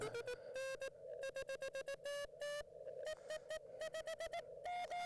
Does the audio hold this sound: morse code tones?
yes